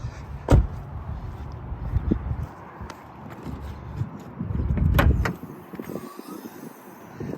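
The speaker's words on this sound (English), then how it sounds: "Next thing, I'm gonna pop the hood." Hood release and latch on a 2006 Toyota Camry being popped open, with a sharp metallic clunk near the start and a second thump and rattle around the middle, close by, amid quiet outdoor background noise.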